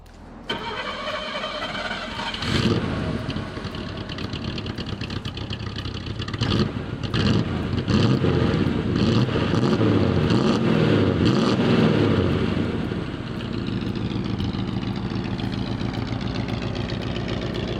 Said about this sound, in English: have a listen to this sweet old V8